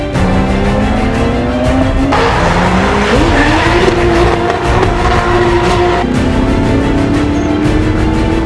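A drift car at a Russian Drift Series stage at NRing runs a sustained, loud engine roar with tires squealing continuously as it slides, the pitch shifting with throttle changes, and no talking.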